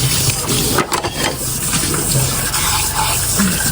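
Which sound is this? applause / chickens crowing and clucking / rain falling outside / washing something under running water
washing something under running water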